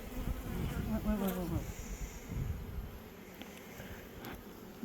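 Honeybees hum in a steady, close buzz around an open hive while a beekeeper rears queens and splits colonies into nucs, with a brief rise in pitch as a bee passes near.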